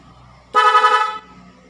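A loud dual car horn wired to a touch sensor blares steadily for about half a second against a quiet background, its rich harmonic tone typical of a dual-note horn.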